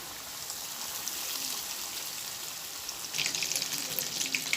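Cordon bleu frying in a pan with a steady, fairly loud sizzle that grows brighter and more crackly near the end.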